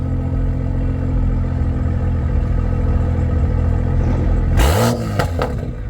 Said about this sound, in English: owner's gonna go and rev it for us